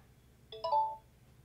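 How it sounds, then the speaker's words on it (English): A short tonal ringtone preview chimes from a OnePlus 13 phone, two quick bright notes stepping up and fading within about half a second, clean and quiet against near silence. "Then you have a list of a long list of ringtones you can choose from."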